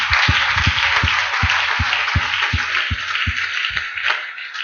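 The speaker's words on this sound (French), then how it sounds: "Applaudissons fort le Seigneur." Church congregation clapping along in a steady rhythmic beat, loud broadband applause with strong regular low thumps like drum or hand beats, continuing throughout without talk.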